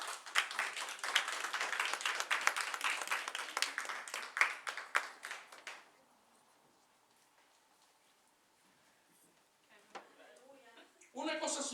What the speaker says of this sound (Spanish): Pueden sentarse y darse un aplauso a usted mismo.